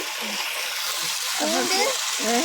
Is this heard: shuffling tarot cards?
no